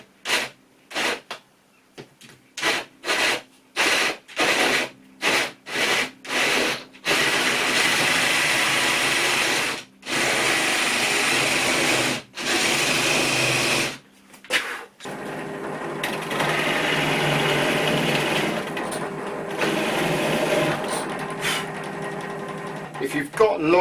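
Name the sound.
hand drill boring hinge hole in cabinet door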